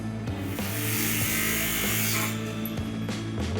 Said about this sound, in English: I can take the grinder, I'll cut right through.